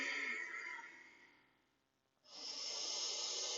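Audible breathing during a yoga pose: a long, airy exhale fades into a brief quiet, then a deep inhale follows, close to the microphone and with no talking.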